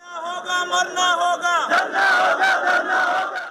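Doctors and health workers protesting against hospital administration outside Sheikh Zayed Hospital chant slogans together, a loud crowd call-and-response in rhythmic bursts, with a single leading voice followed by many voices shouting in unison.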